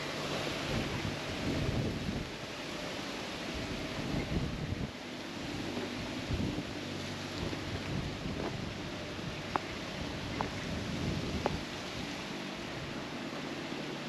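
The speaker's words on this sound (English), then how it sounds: "Oh, it's starting to rain." Rain begins to fall outdoors in a weedy garden bank, a steady broad hiss with wind rumble and a few faint sharp taps, no talking over it.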